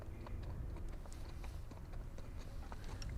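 Hooves of a horse clip-clop in quick, steady beats at a plane-spotting location in Zurich, Switzerland, fairly close against a low rumbling outdoor background.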